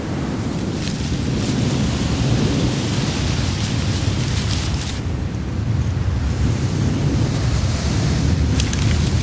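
A severe thunderstorm pours heavy rain with strong wind, a loud continuous roar of rainfall and rumbling thunder filling the whole stretch without a break.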